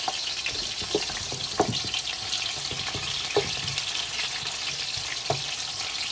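Onions hit very hot oil and fry with a loud, constant sizzle, joined by occasional knocks and scrapes of a spoon in the pan while cooking lamb chop pulao; no voices.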